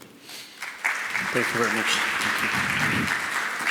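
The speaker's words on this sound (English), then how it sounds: "Let's please welcome him on with a huge round of applause." A conference audience applauds warmly as a keynote speaker is welcomed on, steady clapping throughout, while someone speaks briefly over it.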